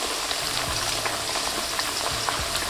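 Potato pieces fry in a hot pan for a chicken tikka wrap, giving a steady, close, continuous sizzle and crackle with faint stirring or shifting sounds and no talking.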